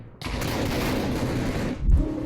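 Grenade launcher firing in Minecraft SMP combat: a dense roaring blast that sustains for nearly two seconds before cutting off, followed by a deep low thump.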